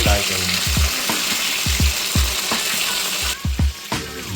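Shilavathi fish fries loudly in a pan with steady sizzling, punctuated by repeated sharp scraping clicks as the pieces are turned and stirred, close-up with no voices.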